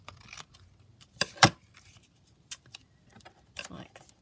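Scissors snipping through a paper envelope nearby, a few short crisp cuts and rustles spread across a quiet room, with soft handling noises between.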